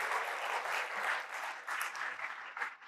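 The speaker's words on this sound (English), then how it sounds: "Give a round of applause for our volunteer." An audience at a Flutter tech talk breaks into brief, moderately loud applause for a volunteer, a dense burst of clapping that swells and fades.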